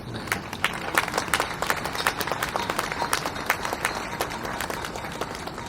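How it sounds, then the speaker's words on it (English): An audience at an outdoor Slavery Remembrance Day libation ceremony in Liverpool claps in a steady round of applause, moderately loud with distinct individual claps. "and round of applause."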